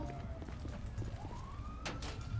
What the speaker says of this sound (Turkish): 2 ambulans. 2 ambulans.